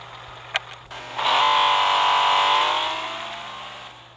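Engine of a 2010 Porsche 911 GT3 Cup in Real Racing 3 revving up to a sustained high-pitched howl after two short clicks, then slowly easing off, loud and close with no talking.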